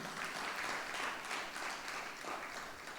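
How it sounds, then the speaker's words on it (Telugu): Steady applause from a congregation at a live church service, a dense wash of many hands clapping together for about three seconds, fairly distant and even in level. "చప్పట్లు కొట్టండి."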